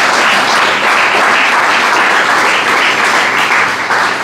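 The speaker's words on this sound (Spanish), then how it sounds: "Dale un fuerte aplauso al Señor Jesucristo." A church congregation breaks into loud, sustained applause, a dense wash of many hands clapping that carries steadily throughout with no pauses.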